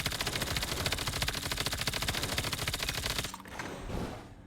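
Rapid automatic gunfire from a mobile shooter game rattles in a dense, steady stream for about three seconds, loud and close, then cuts off, leaving softer game noise and a brief swell.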